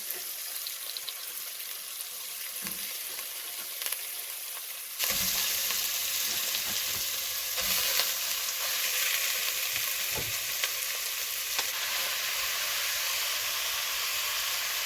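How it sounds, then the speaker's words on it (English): Chunks of beef and pork searing in a pan for spaghetti alla Bolognese produce a low sizzle that jumps to a loud, dense hiss midway, with occasional stirring knocks and no voices. "So you want to put them in chunks so they can sear."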